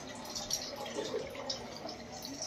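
Tap water runs steadily as someone quickly washes face and hands, a faint, continuous splashing hiss with no voices.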